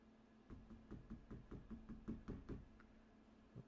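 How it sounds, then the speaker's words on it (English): Knocking on a door, a quick run of about a dozen evenly spaced raps followed by a pause and a couple more knocks, muffled and moderately close. "Who's knocking?"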